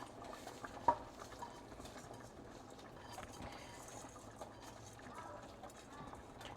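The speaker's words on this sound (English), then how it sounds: "And last up, we're adding the rice" Uncooked rice goes into a pot for Puerto Rican arroz con gandules con pollo, a soft, faint rustle with light scraping and one brief clink near the start against a quiet kitchen background.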